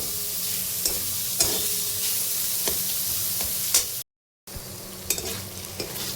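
Onions frying with a ginger, garlic and chili paste, stirred for a dry sizzle with scattered scrapes and clacks of the spoon; a brief dead-quiet gap interrupts it before the sizzling and stirring resume.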